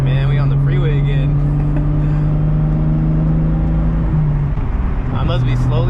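A 2JZ-swapped Nissan 370Z driving on the freeway, its engine holding a loud, steady drone throughout with a brief dip near the end, while a voice talks over it.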